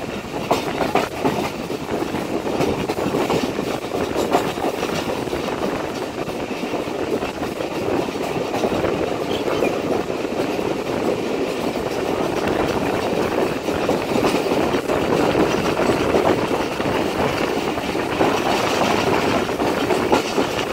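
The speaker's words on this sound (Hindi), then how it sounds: "हमारी ट्रेन निकल रही है पटीदन रेलवे स्टेशन से" The Hazara Express pulls out of Padidan railway station: a steady, loud rolling rumble with rhythmic clickety-clack of wheels over rail joints and engine drone, continuous throughout with no talk.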